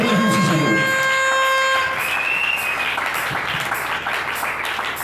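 A church congregation bursts into applause and cheering for Jesus as sustained music fades out, the clapping swelling into a dense, steady roar that carries on.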